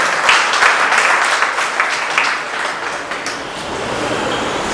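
Loud, sustained applause from an audience welcoming Congress party workers at an organisational campaign event in Delhi, dense clapping filling the whole stretch with no talk over it.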